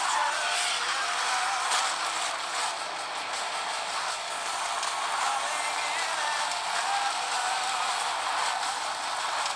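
Racing sounds from the Asphalt game playing on a Huawei MediaPad T3 8.0 tablet, a steady bright roar of engine and tire noise with faint squeals, continuous and fairly loud, with no speech.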